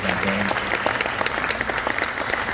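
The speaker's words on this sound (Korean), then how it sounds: "하나님께 영광의 박수 한번 올려드리도록 하겠습니다" Dense applause from a church seminar congregation giving glory to God, a brief continuous burst of many hands clapping at close range.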